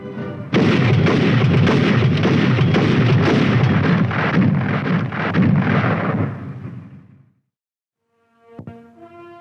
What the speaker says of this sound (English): When it is used as a fully automatic weapon, it fires 240 rounds a minute.